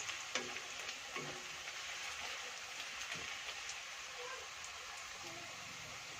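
Onions frying in a pan, a soft continuous sizzle with light crackles and occasional stirring clicks, fairly quiet and close, with no speech over it.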